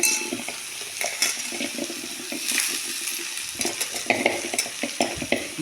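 Chopped banana stem and slit green chillies hiss and crackle in a hot pan, with close scraping stirs and occasional metal clinks of a spatula. Steady frying runs throughout with no talk.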